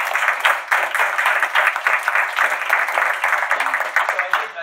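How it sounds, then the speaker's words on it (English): A crowd at a colloquium applauds the speaker Mike, with dense, steady clapping that fills the room for several seconds at even loudness. "Let's give Mike a hand."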